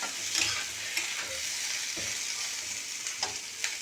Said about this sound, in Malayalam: ഈ തക്കാളി ഇങ്ങനെ ആഡ് ചെയ്തിട്ട് ഇതിൻ്റെ കൂടെ നന്നായി ഒന്നിങ്ങനെ വേഗം ഫ്രൈ ചെയ്യുക.